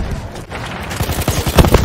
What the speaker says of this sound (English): I hit him so hard with the bullets